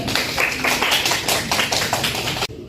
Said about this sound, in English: Please give group 6 applause.